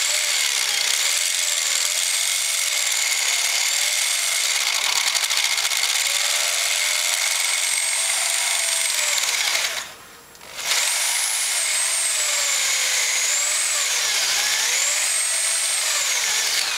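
A power drill with a large bit whines steadily at high pitch as it bores down the centre of a damaged metal part from a Suzuki GT250 motorcycle, its tone shifting slightly, with a brief pause midway before it resumes.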